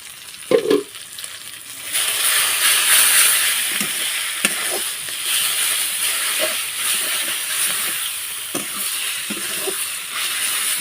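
Water spinach fries in chili paste in a pan, a loud steady sizzle and hiss that starts after a few seconds, with occasional clinks and scrapes of stirring.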